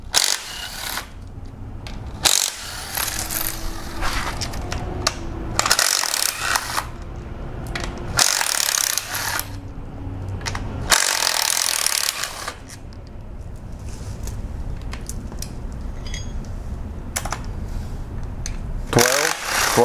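A ratchet with a 10mm socket loosens timing cover bolts on a Jeep 2.4 engine, sharp clicking and clanking bursts in irregular spurts separated by short quiet gaps, close and loud.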